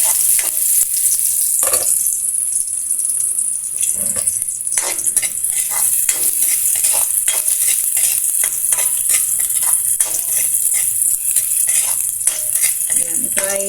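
Garlic and onion sizzle steadily in a hot pan for tinola with clams, a dense continuous frying hiss with occasional scrapes and stirs, loud and close throughout.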